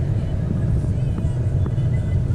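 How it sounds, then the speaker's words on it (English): A 4WD works its way off-road across a dry riverbed toward the ocean, its engine giving a steady, low rumble held at constant revs. The drone is continuous and moderately loud throughout. "Back off the throttle though, just like keep revs on it."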